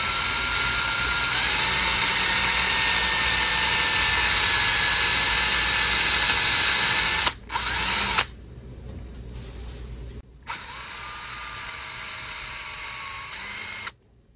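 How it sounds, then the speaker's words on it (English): A high-pitched drill whines continuously at close range, briefly stopping, then running again with a steady tone before cutting off, drilling a hole through a PS90 rifle's barrel shroud. "we're going to drill the hole being perpendicular to the shroud"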